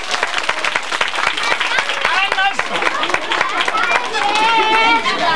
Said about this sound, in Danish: Og så klapper de alle.